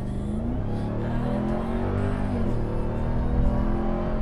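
A 702-horsepower Ram TRX pickup truck revs its engine as it accelerates, a loud, steady roar that climbs in pitch, dips briefly, then rises again, close up and with no voices.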